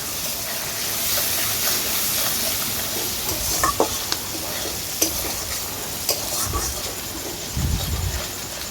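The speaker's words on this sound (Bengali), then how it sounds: "সব কিছু ভালো করে নেড়ে চেড়ে নিচ্ছি।" Ginger, turmeric and spices sizzle steadily in a pan with a splash of water for pumpkin chhokka. Spatula scrapes and clacks come through now and then over the close, continuous frying hiss.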